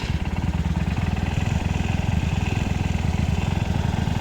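A motorcycle engine running steadily nearby in a repair check, a loud, even, rapid putter that holds constant throughout.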